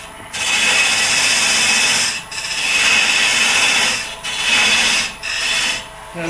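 A wood lathe spins a pen blank while a parting tool cuts into it, giving a loud, rasping scrape in four bursts separated by brief pauses as the tool lifts and re-engages.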